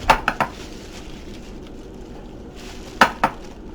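A spoon stirs keto cornbread dressing and seasonings in a bowl, giving a few sharp clinks against the bowl in two short bursts, at the start and about three seconds in, over quiet soft mixing.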